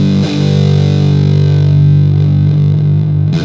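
Electric guitar driven through a Green Russian Big Muff fuzz pedal set with extra top end, a thick, heavily fuzzed chord held loud and sustained for several seconds before a fresh pick attack near the end.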